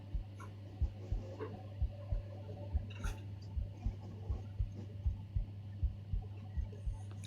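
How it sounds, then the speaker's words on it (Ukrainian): Slow, regular heartbeat thumps, about one per second, over a low steady hum, with a few faint clicks and no speech. "Це я тільки чую серцебиття."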